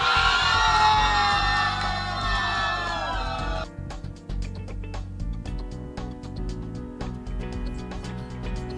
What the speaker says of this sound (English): oh my God, look at the crowd. It's huge.